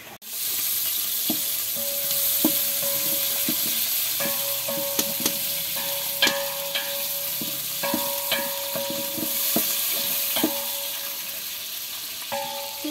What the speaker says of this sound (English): we're gonna start by frying our onions